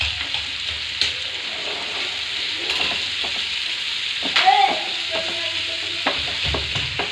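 Conch meat frying and sizzling in a pan while being stirred, steady hiss of hot oil with a few scraping clinks of the spoon and a brief louder stir near the middle, no talking.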